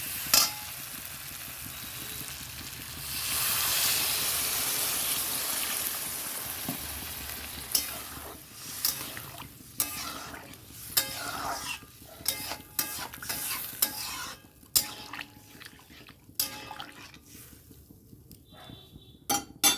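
Pointed gourd and shrimp curry sizzles in a pan as it is stir-fried, with a surge of frying hiss followed by a long run of repeated spatula scrapes and metallic clinks against the pan, close and busy.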